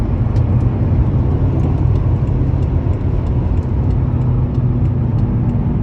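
A BMW M6 being driven at highway speed, its quiet engine a steady low rumble mixed with road and cabin noise, continuous and fairly loud throughout without voices.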